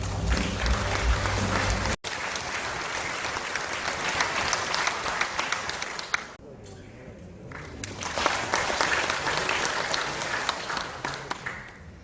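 A large crowd at the launch ceremony of the 2022 Yeongju World Punggi Ginseng Expo applauds to welcome the Gyeongbuk provincial governor with dense, sustained clapping. It breaks off briefly near the start and dips partway through before swelling again.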